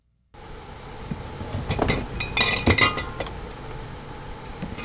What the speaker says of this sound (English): Scott Moser pulls glass jars of raw cow's milk from one of the coolers against the wall of a refurbished shuttle bus.